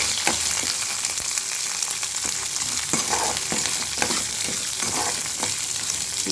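Garlic, tamarind and green chili sauté in a pan for a Tamil pirandai chutney, a steady close sizzle and crackle of frying with scattered clicks and scrapes of stirring, no voices.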